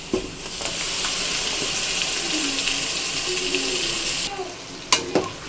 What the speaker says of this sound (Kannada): ಈಗ ರುಬ್ಬಿರೋ ಅಂಥ ಟೊಮೆಟೊ ನಾನು ಈಗ ಹಾಕ್ಕೊತಾ ಇದ್ದೀನಿ